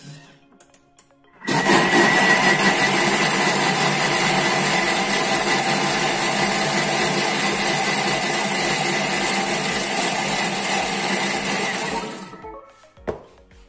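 A Thermomix blends lentil soup ingredients, including tomatoes, at speed 6.5, its motor starting abruptly with a loud, steady whirring roar that holds for about ten seconds before winding down, with no talking.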